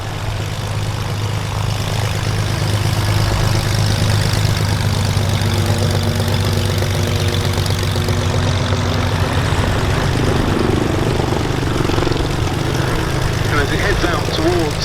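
A Fokker S-11 Instructor propeller trainer flies aerobatics at the Duxford summer air show, its engine droning steadily and loudly throughout with a shifting pitch as it climbs, while an announcer's voice carries over the top.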